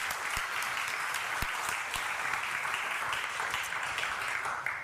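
A crowd claps steadily and continuously at moderate distance, a dense wash of applause with no voices standing out.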